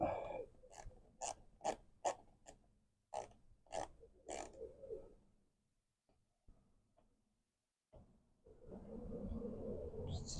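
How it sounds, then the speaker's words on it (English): Small Torx T20 screw being loosened on the window motor of a 2009 Smart car, heard as a rapid series of sharp clicking ratchet ticks, then a pause with faint handling noises and a rising rustle. "Go ahead and pop this guy off, which has a Torx bit right here on the side, which is a T20"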